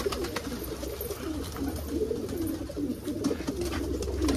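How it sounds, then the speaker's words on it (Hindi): Soft, low coos of kalsira pigeons roll on continuously from a flock nearby, layered over one another with a faint background hum and no talking. "कुछ कलसिरे कबूतर हैं इसके अंदर"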